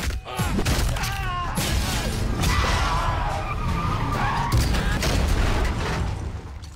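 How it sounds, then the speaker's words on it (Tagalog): Film sound effects of a car losing control, skidding and crashing into a forest: loud, continuous tyre screeching with harsh crunching impacts and grinding debris, with no pause across the whole stretch. "nawalan ng kontrol ang sasakyan at bumangga sa kagubatan"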